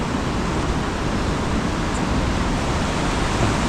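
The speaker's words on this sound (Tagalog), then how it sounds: "Sobrang lakas ng baha." Strong floodwater rushing during heavy rain in Taiwan, a loud, unbroken broadband roar filling the whole stretch with no voices.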